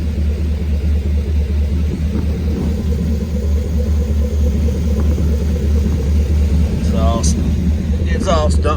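A 1970 car with an LS engine swap idles with a steady, loud low rumble throughout, and brief human voices come in near the end.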